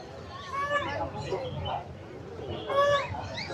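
Coloured chicks peep in high, thin chirps at a busy Friday pet market in Pallavaram, Chennai, with the chirps rising above a background hubbub of crowd noise.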